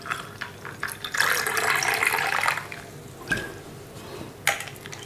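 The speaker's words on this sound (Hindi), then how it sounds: "और फिर थोड़ा सा पानी डाल दें।" A little water is poured into raw mango (keri) sharbat in a home kitchen: a steady splashing pour for about a second and a half, then a few separate drips and clinks, close by with no talking.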